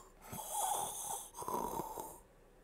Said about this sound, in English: I don't think they needed the snoring there.